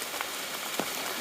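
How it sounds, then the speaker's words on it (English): Steady rain falling on the Appalachian Trail during a wet summer thru-hike, a continuous hiss of drops on surfaces with a couple of brief soft splats, fairly quiet and close, with no talking. "still slogging in the rain"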